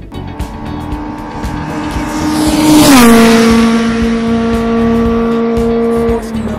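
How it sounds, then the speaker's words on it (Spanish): A Formula BMW race car at the Jarama circuit screams past, its high engine whine rising as it approaches and dropping sharply as it passes, then fading steadily into the distance, alone with no talk. "Por primera vez pilotaba un Fórmula BMW en el Jarama."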